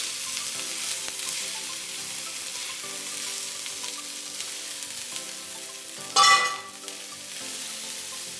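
Bacon and shrimp fried rice sizzling in a pan as it is stirred, a continuous frying crackle with soft scraping, and a brief louder burst of sizzle near the end.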